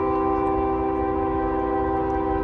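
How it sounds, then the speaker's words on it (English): A train horn blares in a long, steady chord over the heavy rumble of the passing train. It is loud and close and holds for the full few seconds with no voices. "Here comes a train."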